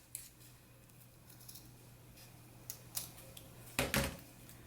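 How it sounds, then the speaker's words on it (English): Scissors snip through a zipper while sewing shorts, a few quiet clicks building to a louder, sharper double cut near the end, close by against a low steady hum. "Now I'm going to go ahead and cut it at the second line."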